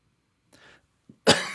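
A short, soft throat sound, then a single sharp, close cough at the end, isolated against near silence.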